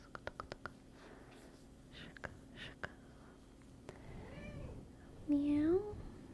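A house cat meows twice softly and at close range, the second meow longer and rising. Earlier there are light tapping clicks and faint talking.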